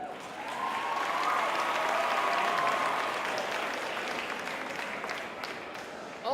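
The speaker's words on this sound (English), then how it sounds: "Please give another round of applause for Taja" A school assembly audience applauds steadily for several seconds, a broad wash of clapping with faint cheering mixed in, heard from the middle of the crowd.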